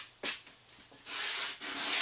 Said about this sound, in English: we're going to go to our sanding foam and just make sure that it's all perfectly